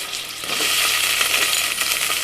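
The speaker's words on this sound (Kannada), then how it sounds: "ಎಲ್ಲ ಎಣ್ಣೆಯಲ್ಲೇ ಫ್ರೈ ಆಗಬೇಕು" Food frying in hot oil in a pan gives a steady, dense sizzle and crackle, loud and close, with no talking over it.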